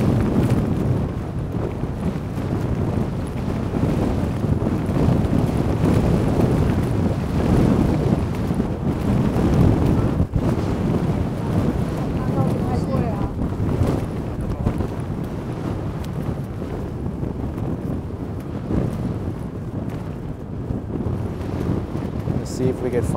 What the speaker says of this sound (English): there's certainly a lot of wind that it's breaking up